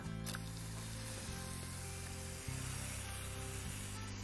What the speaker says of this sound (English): we're not making any divots with the watering, with the hose.